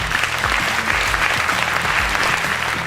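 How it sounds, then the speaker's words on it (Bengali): An audience at a school quiz show gives a loud, steady round of applause for a contestant, dense clapping that continues throughout. "মাহিরের জন্য একটা জোরে করতালি"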